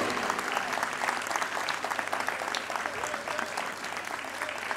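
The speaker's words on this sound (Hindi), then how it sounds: "एक बार तालियों में थोड़ा सा ऊर्जा और दमदार तालियां होनी चाहिए।" Steady applause from a student audience fills an indoor ceremony for the launch of an arts magazine, dense clapping at moderate level throughout with no break.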